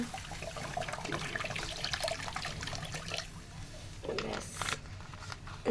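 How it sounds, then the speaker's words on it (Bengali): Water pours steadily from a bottle into a cooking pan while a fish curry with cauliflower and potato is being made, a continuous splashing rush with scattered kitchen clatter. "এখান থেকে একটা জলের বোতল নিয়ে নিলাম অনেকটা জল দিতে হবে"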